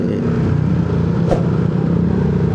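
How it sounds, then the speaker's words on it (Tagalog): A borrowed motorcycle ridden in city traffic in Caloocan, its engine a steady, loud, close rumble with a brief clatter midway and no talk over it. "Iba ang gamit nating motor ngayon"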